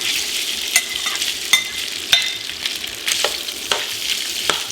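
Crumbled hot Italian sausage fries in bacon drippings and olive oil in a stock pot, a steady close sizzle broken by sharp scraping stirs and clicks of a utensil against the pan.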